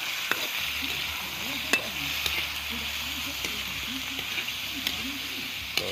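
Squid hits hot oil in a pan and sizzles loudly and steadily, with scattered pops and light clatter of stirring throughout.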